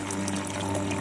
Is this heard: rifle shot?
no